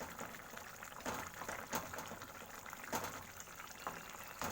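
Fish curry gravy simmers in a pan with a steady, soft bubbling, faint and continuous, with small pops rising now and then.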